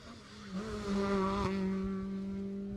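A rally car on stage 3 of the 2018 Jersey Rally passes by, its engine note rising then holding steady as it goes past, heard fairly faintly at a distance.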